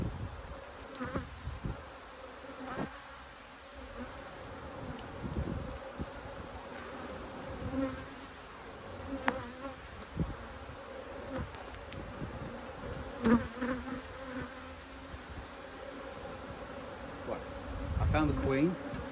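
A honeybee colony during a hive inspection: a constant, close swarm buzz with drifting pitch, broken by soft knocks and frame handling, with no talk over it.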